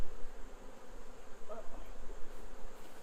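A steady insect buzz hums throughout, a dense swarm of honeybees stirred up from their hive droning at close range, with no talking.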